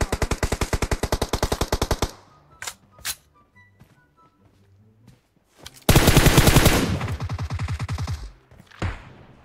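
Gunfire in the mobile battle royale game PUBG Mobile: a rapid automatic burst of closely spaced shots, a pause with a few scattered sounds, then a louder, denser burst close by, followed by single thumps.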